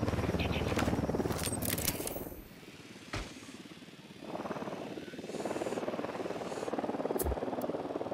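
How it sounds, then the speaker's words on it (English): Helicopter in the Ghost Recon Wildlands video game: a loud, continuous rotor and engine drone with rapid blade chop, dipping briefly in the middle, then returning strong alongside scattered clicks and thumps. "that chopper, stay low."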